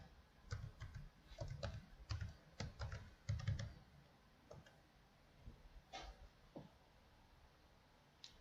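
Code is typed on a computer keyboard in bursts of quick, close clicking keystrokes, followed by a few sparser taps, with no talking.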